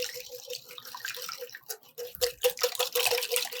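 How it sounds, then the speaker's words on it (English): Egg yolks beaten hard in a bowl with a whisk, a quick run of wet, rhythmic tapping and slapping strokes that grows louder and busier toward the end, close by and with nobody talking. "And whisk it well. Really beat up these egg yolks."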